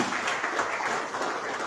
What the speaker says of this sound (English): A big round of applause of PC.